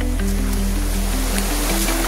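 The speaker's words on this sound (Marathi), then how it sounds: "आज पाण्याचा प्रेशर खूप जास्त आहे" A high-pressure stream rushes past at a crossing with a loud, continuous roar, and a low steady hum sits beneath the churning water.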